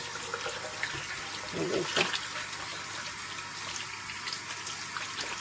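Cold tap water runs steadily into a sink with a soft splashing hiss, a brief gush midway, and faint voices in the background.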